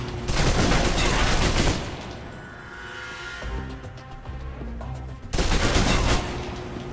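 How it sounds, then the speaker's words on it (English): Submachine gun fire in the video game Alpha Protocol: two loud sustained bursts of rapid automatic shots, separated by a quieter stretch with game sounds in between. "Now for your submachine guns."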